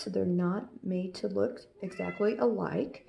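Clyde, a pet cat wanting to get into a bedroom, lets out drawn-out meows, the loudest near the end, mixed in with someone speaking continuously nearby.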